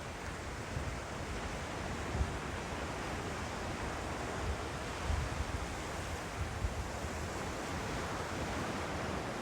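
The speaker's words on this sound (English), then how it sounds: "And so I come out to the beach" Steady ocean surf rolls onto a beach in a continuous broadband wash, with a few slightly louder wave surges and wind across the microphone, and no voices.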